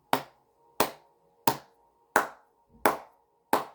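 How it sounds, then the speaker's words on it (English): Six sharp, separate hand claps at a slow, steady pace, crisp and close, with silence between each one. "I need to clap for you"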